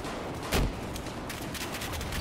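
Gunfire in Battlefield 4, a single sharp shot bursting out at about the half-second mark over a steady bed of game noise, with fainter shot-like transients later on.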